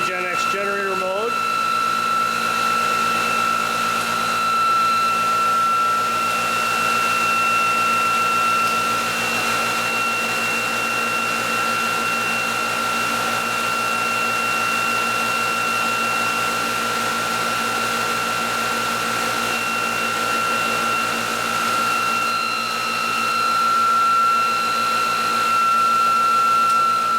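A RegenX generator running in generator mode gives off a steady electrical hum with sustained tonal whine, continuous and fairly loud for the whole stretch.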